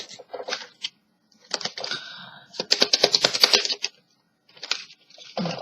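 Tarot cards being shuffled and dealt give bursts of quick, crisp flicking and slapping, close and fairly loud, separated by short silences, with no talking.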